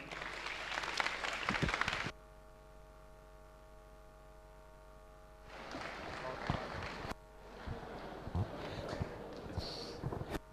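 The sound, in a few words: applause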